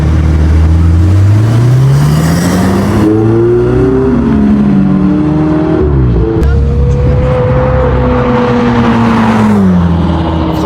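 A Ferrari driven on a race circuit in Belgium, its engine loud and continuous as it revs up and shifts through gears, pitch climbing and dropping repeatedly, with a brief lull around a gearchange before accelerating again.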